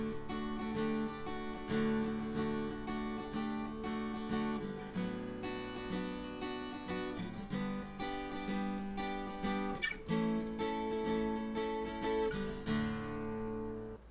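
Left track of an acoustic guitar recorded in mono through a microphone, strummed chords ringing continuously with rhythmic strokes, fairly quiet and close, no voices.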